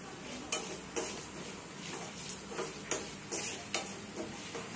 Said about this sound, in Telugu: ఇవన్నీ కాసేపు బాగా వేపుకోవాలి లైట్ బ్రౌన్ కలర్ వచ్చేంత వరకు